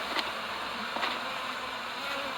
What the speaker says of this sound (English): See those balls of bees in there?